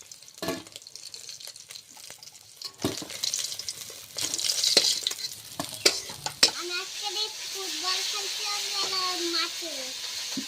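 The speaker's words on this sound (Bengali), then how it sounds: "মাছ ভাজা হয়ে গিয়েছে মাছগুলো তুলে দিচ্ছি" Pieces of snakehead fish are lifted out of hot frying oil: a hissing sizzle with clattering utensil knocks and scrapes, while people talk throughout.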